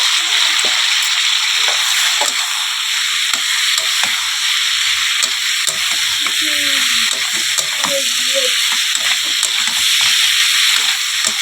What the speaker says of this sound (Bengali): মাংসটা দিয়ে এবার কিছুক্ষণ এভাবেই কষিয়ে নেবে